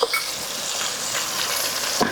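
Tomato pulp frying in a pan for kaju paneer curry, a loud dense sizzle with stirring scrapes, ending in a brief clatter.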